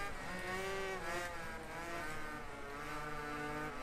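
A motorcycle engine in the MotoGP video game races with a sustained rising and falling whine, steady and fairly faint with no talk over it.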